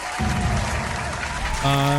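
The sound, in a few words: cheer sound in the video game Dune Imperium Digital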